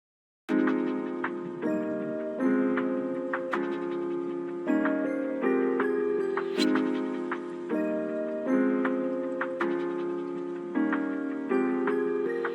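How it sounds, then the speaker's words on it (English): A tuned percussion loop from a Gemini drum kit, used under a melody, plays a steady rhythmic pattern of pitched, bell-like hits with ticking accents, repeating evenly and loud throughout with no voices. "we're using my elemental percussion loop from my Gemini drum kit"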